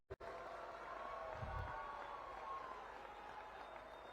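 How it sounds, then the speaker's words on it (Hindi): Crowd at an Amit Shah public rally in Palghar, Maharashtra, applauding: a dense, steady wash of clapping from a large gathering, sustained and fairly distant after a brief thump at the start. "जोर से ताली बजाओ हेमंत जी के लिए"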